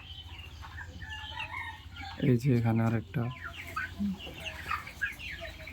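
Several 32-day-old poultry-farm chickens cluck and squawk close by, with a louder harsh call in the middle, while a person talks quietly over them.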